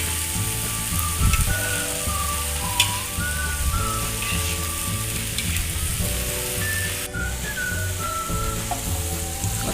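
Gulai tauco stirred in a pan gives a steady loud sizzle with occasional scraping clinks, under a constant tonal hum for the full stretch.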